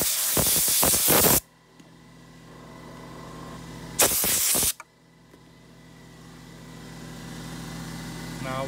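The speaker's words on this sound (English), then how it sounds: "I'm gonna use the same air thing to spray it." Compressed air blasts onto the engine of an Infiniti G37 during valve cover gasket work, two loud hissing bursts of about a second each, separated by a quieter steady hum.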